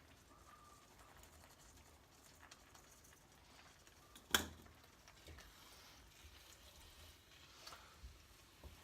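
Mince fries in a pan with a faint, steady sizzle, broken by one brief clatter partway through.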